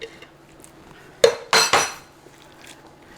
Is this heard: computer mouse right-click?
no